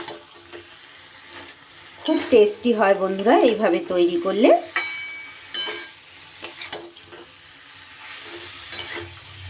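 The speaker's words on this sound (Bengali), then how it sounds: "এবার ভেজে রাখা ব্রোকলিটাও আমি দিয়ে দিচ্ছি।" Pre-fried broccoli stir-fried in a pan, a soft sizzle with scraping and clattering of a spatula against the pan, partly under a woman's speech in the middle.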